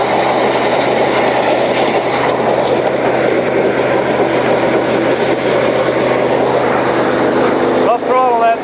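A cold water jetter engine runs loud and steady close by, a constant rumbling drone that holds throughout and drops off briefly near the end.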